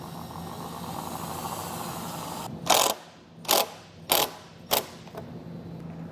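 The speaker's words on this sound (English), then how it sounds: "You can use the provided self-tapping screw to get this secure." A power driver sinks a self-tapping screw for a ground wire on a 2023 Chevrolet, four short loud whirring bursts in a row after a steady hum, with no talk.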